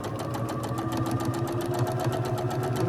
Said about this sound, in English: Then I'm going to take it to the machine. I'm going to stitch this one a 1/4 inch.